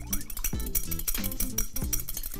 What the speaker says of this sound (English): We're gonna lightly whisk our egg